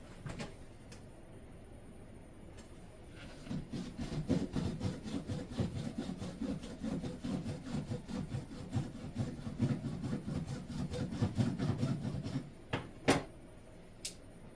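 Dowel rods being cut by hand for a wedding cake, a quick run of rhythmic sawing strokes, close and moderately loud, with a few sharp knocks and clicks as the pieces are handled at the end.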